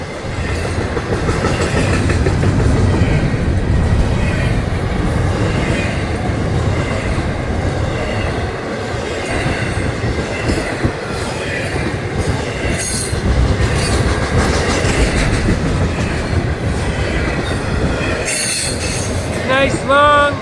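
A long freight train passes close by and speeds up, with loud continuous rumbling, rhythmic wheel clatter and squealing wheels, plus occasional brief voices nearby.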